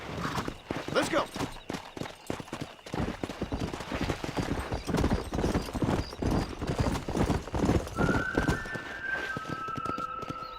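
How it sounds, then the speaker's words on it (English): Horse hooves gallop in rapid, continuous clip-clop in the video game Red Dead Redemption, loud and close throughout, with a brief tonal whistle near the end. "I'll show you how we ride around these parts. Giddy up!"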